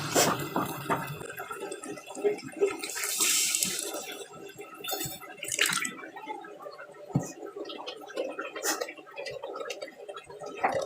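Tomato sauce, chili sauce and a little water go into a pan of frying chicken dimsum filling, producing a steady wet sizzle and bubbling with occasional clinks and splashes close by.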